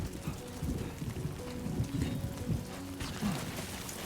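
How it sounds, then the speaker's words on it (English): Rain falls in the video game Death Stranding 2, a dense, steady patter of drops spread evenly across the scene, with soft thumps and low rumbles mixed underneath. "Great. Rain."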